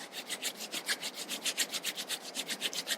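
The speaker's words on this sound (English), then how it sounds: "Rub your palms." Palms rubbed briskly together at the close of a yoga session, a soft rhythmic swishing of about a dozen quick strokes, close and quiet with no talking.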